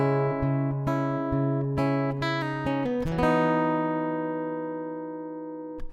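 Electric guitar strums chords from the third part of a song, several rhythmic strokes then a ringing chord left to sustain and fade, close and alone.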